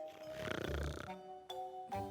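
A patient breathes heavily on a doctor's request: a loud, rasping, snore-like exhale followed by shorter breaths, close and alone.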